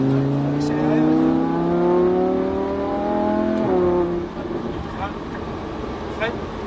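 A Ferrari or Lamborghini sports car on a race track: the engine revs climb in a rising tone, then shift and drop back to a rougher drone. Voices talk over it.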